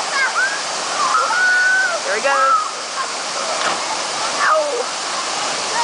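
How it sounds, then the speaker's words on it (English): A high waterfall where kids jump from rocks roars with a loud, constant rushing wash close by, while people talk and call out over it. "This is the first waterfall."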